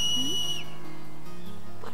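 Shrill in-game whistle from Final Fantasy X, a single sustained high tone that ends with a downward slide after about half a second, over a soft game background.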